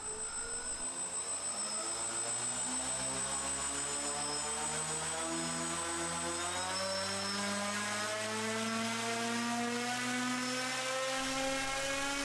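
A drone fitted with slightly larger propellers spins up into a steady, loud, whining buzz that drifts slowly in pitch, close by and continuous with no talk.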